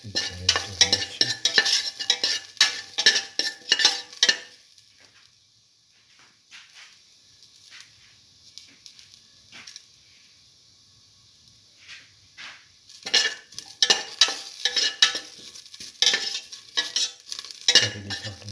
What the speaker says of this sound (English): Already sauteing it.